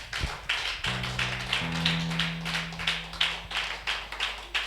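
A church congregation at a Sunday worship service clapping in praise to the Lord, rhythmic steady handclaps over a sustained organ or keyboard chord, with no speech.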